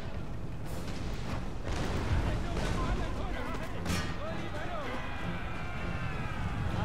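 Cannon and musket volleys crackle and boom through a pitched battle in Empire: Total War, irregular bursts over a constant battlefield din, with people talking throughout.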